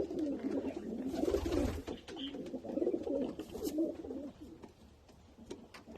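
Several rescued pigeons coo repeatedly at close range in soft, throaty rolling calls, with a brief rustle of movement. The cooing fades toward the end.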